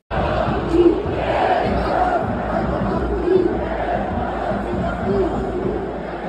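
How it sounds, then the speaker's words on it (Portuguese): Large crowd of Inter football fans protesting at the Beira-Rio stadium, a dense roar of chanting and shouting that stays loud throughout with a few louder swells. "Vocês vão ver que a torcida está sim insatisfeita"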